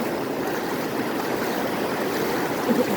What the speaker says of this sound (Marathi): पाण्याचा फोर्स हा खूपच आहे